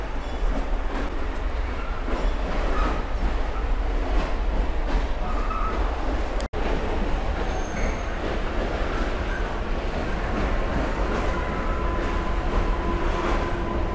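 Two trains pass through Wrocław Nadodrze station with a steady loud rumble and wheel noise, some faint squeal and clatter, sustained throughout and briefly cut off once midway.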